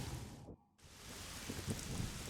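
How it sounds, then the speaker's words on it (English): Steady rain falls in the video game Mystery Case Files: Key to Ravenhearst, a dense broadband hiss with a brief dropout near the start, then continuing with soft low rumbles beneath it. "Of course it's raining."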